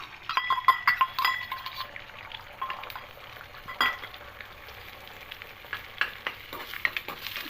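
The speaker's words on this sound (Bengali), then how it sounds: "এইভাবে একটু ভেজে ভুজিয়া করে নেব" Beaten egg frying in mustard oil for an egg bhujia, crackling sizzle with irregular spatters and stirring taps, close and fairly loud, no talk.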